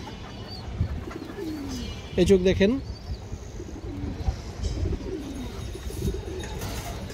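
A red chulli female pigeon gives a short burst of cooing near the middle, close and clear, set against steady background noise, while someone talks nearby.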